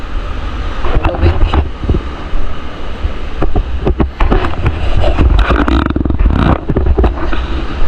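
Large ocean waves churn around a boat in stormy conditions, heard as loud surging rushes and splashes mixed with heavy wind buffeting and low rumble.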